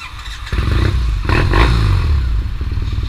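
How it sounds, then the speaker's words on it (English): A Triumph Bonneville T100 motorcycle ridden on a New Zealand road, its engine droning loud and close throughout with a steady low rumble, swelling briefly as it revs, plus some rattle and wind. "And I have a go on Lee's Bonnie T100."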